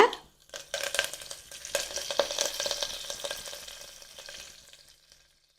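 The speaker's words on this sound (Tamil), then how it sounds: "சோம்பு பொறிஞ்சிருச்சு இப்போ கருவேப்பிலை போட்டுக்கலாங்க" Curry leaves dropped into hot oil with frying fennel seeds burst into a loud, crackling sizzle that gradually settles and fades away over several seconds, close up with no talking.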